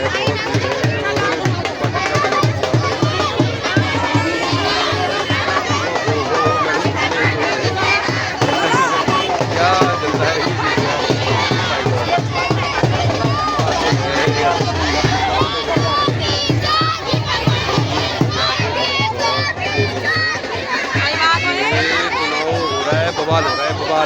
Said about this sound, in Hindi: कितनी भीड़ है, बहुत भीड़ है, बहुत भीड़ है,